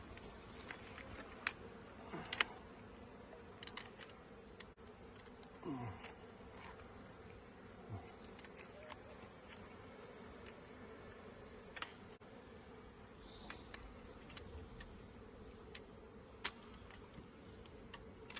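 Honey bees buzzing around an open hive during a bee removal, with brood comb and queen cells exposed: a faint, steady hum of many bees, with occasional individual bees passing close.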